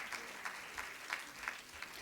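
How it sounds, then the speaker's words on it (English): Applause from the audience at the FLO and YFLO Hyderabad annual session and change-of-guard event, a steady clapping with regular sharp peaks that carries on for a couple of seconds, with no talking over it. "Let us give a big round of applause to both Priya and Ritu"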